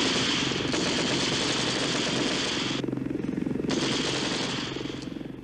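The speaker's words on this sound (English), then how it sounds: "cannon or machine gun can be mounted in the cabin door to give suppressive fire" Sustained rapid automatic gunfire from a machine gun mounted in the cabin door of a Westland Lynx helicopter rattles loudly and continuously, layered over a deep rotor-like throb, with a brief dip in the bursts midway.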